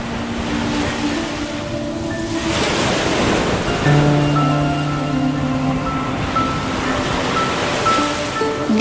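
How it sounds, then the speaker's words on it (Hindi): Ocean waves wash steadily onto a shore, a continuous broad roar of surf with gentle swells, overlaid by sustained soft musical tones. "आती जाती लहरों के बीच खड़ा था"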